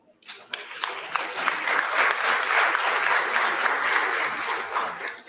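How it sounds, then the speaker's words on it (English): Steady applause from an audience at a ministerial conference as ministers sign a declaration, a moderate wash of clapping swelling in and holding for several seconds before tapering. "Let us all give a round of applause."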